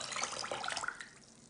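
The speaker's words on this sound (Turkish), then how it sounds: "Üzerine 3 su bardağı suyumu ilave ediyorum." Water poured into a pot over sugar for syrup, a brief close splashing gush that fades out after about a second.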